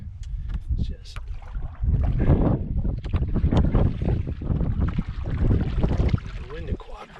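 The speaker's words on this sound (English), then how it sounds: "the wind to cooperate just a little bit. Just die down just a bit." Wind gusts across a lake during a canoe outing, a steady rough rush of noise buffeting the microphone with splashy paddle and water sounds mixed in; someone talks over it.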